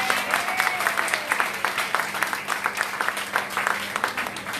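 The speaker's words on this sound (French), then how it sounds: "j'aimerais qu'on applaudisse très fort ce soir" An evening event audience in Netanya claps, with a moderately loud, uneven patter of individual hand claps from a smallish crowd that carries on throughout.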